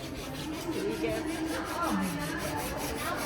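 A handheld survival saw rasps back and forth through wood at an outdoor nature-guide training session, a steady scraping rhythm heard close up with faint voices nearby.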